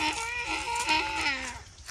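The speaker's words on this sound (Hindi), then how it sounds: "ये सामने है दुम्बे।" A dumba, a fat-tailed sheep, at an animal market gives a loud wavering bleat, close and sustained for nearly two seconds, with no talk over it.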